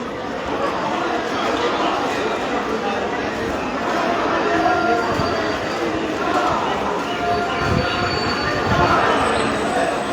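A special passenger train rolling into Krishnanagar station in India, a steady rumble of wheels on rails with faint squeals, under a constant murmur of a crowd on the platform.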